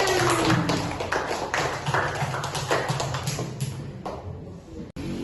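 A classroom of students claps in applause, with a dense burst of hand claps that gradually thins out and fades over a few seconds.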